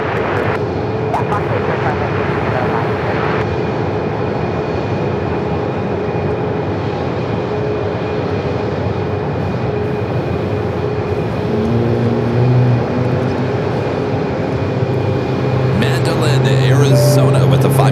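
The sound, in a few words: passenger jet aircraft at Phoenix Sky Harbor airport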